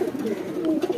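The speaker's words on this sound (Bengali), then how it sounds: "কাজ করা স্টাইলের একটি মাদি কবুতর।" A female pigeon coos close up in a low, throaty, rolling series of soft pulses lasting about a second.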